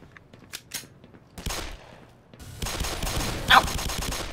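Gunfire in the game Black Mesa, a few scattered shots at first, then a loud sustained burst of rapid automatic fire building toward the end.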